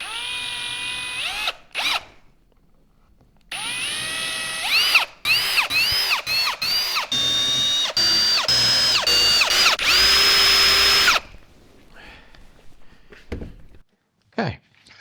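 A power drill drives screws into a wooden sled, whining up in several short bursts of rising pitch separated by pauses, then one long sustained run, close and loud.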